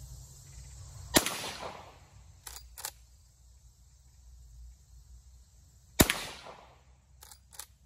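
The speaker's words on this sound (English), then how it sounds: "We'll put a couple shots in down there." Two sharp rifle shots from a Marlin 1894 lever-action chambered in .45 Colt, fired outdoors at a pressure jug downrange, spaced about five seconds apart with brief metallic lever clacks after each report.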